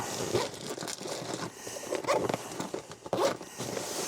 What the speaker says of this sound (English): So again, we'll zip this up.